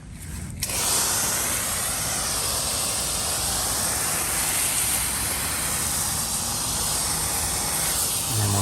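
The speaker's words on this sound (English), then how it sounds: "let's take it outside, rinse it off, because that is the last step with evaporust" Water hosed outdoors over Evaporust-treated parts from a 75-year-old Emerson K60 shop fan, a loud, steady broadband spray that starts abruptly and runs unbroken close to the listener.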